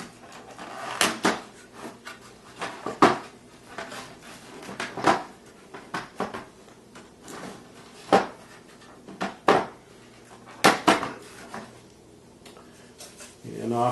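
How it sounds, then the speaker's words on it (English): Plastic catches being released on the back half of a Chevy instrument gauge cluster during stepper motor replacement, a series of sharp close clicks and snaps scattered irregularly over about fourteen seconds, with faint handling noise between them. "Now we can release the catches on the back half."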